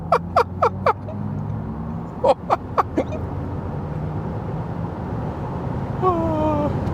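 An Audi RS e-tron GT electric car in dynamic mode accelerates from about 40 km/h, its motor whine climbing steadily over road and wind noise after a few sharp clicks near the start.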